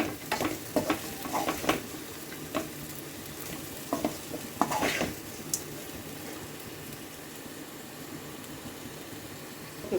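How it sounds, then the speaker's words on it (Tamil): A spoon stirs boiled potatoes through fried onions in a hot pan, scraping and clinking in irregular strokes over a steady sizzle, then the frying continues alone. "நம்ம ஆல்ரெடி பாயில் பண்ண உருளைக்கிழங்குன்றதால உடையாமல் மிக்ஸ் பண்ணிக்கலாம்."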